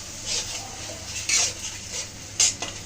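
Onion paste and garlic paste are stirred in a pan, with a soft frying hiss and a few sharper scraping strokes from a utensil against the pan.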